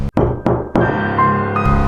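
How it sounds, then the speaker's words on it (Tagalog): Three sharp knocks, evenly spaced, land close and loud over a steady low musical drone. "May naririnig na naman akong mga katok."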